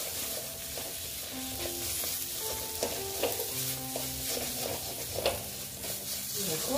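Spiced young jackfruit masala fries and sizzles steadily in a pan, with stirring scrapes and clinks coming through near and fairly loud, and a faint voice briefly in the background.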